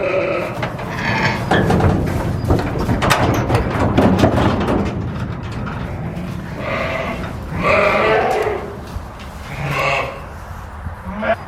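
Sheep bleat repeatedly and loudly as a flock is unloaded into a holding pen at a barn, with overlapping calls, a steady shuffling and clattering background, and occasional thumps throughout.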